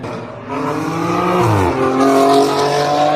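Cars launching side by side in a drag race, a Tesla against a BMW, with engine and motor noise swelling and rising in pitch as they accelerate away, loud and continuous throughout with no talking.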